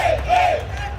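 Sold-out stadium crowd at a Bosnia vs Qatar World Cup match at Lumen Field, a mostly Bosnian crowd, a dense roaring chant of many voices sustained through the short moment.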